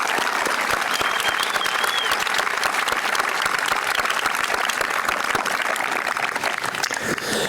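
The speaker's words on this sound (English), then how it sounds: "Let's give one more round of applause for our student speakers tonight." A large graduation audience at a high school commencement ceremony applauds steadily for student speakers, a dense, sustained clatter of many hands filling the hall from start to finish.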